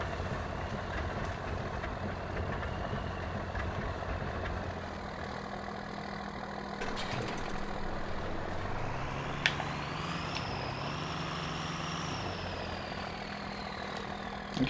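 A heavy truck engine idles and revs in the off-road driving game MudRunner, a continuous low rumble with a rising pitch shift partway through and no voices over it.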